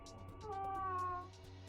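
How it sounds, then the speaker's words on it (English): A single drawn-out cartoonish cat meow plays from a save point in the video game Zero Escape: Virtue's Last Reward, a clear tonal whine that swells and fades over about a second. "Why does this save meow?"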